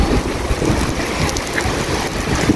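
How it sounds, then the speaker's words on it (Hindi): Heavy rain falling outdoors in Madinah, a dense, loud, continuous wash of drops with a low rumbling undertone, no voices. "बारिशें शुरू हो गई हैं मदीना में।"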